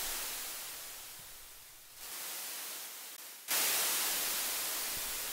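Steady hiss of broadband static that drops in level, then jumps up abruptly to a louder, brighter wash of noise.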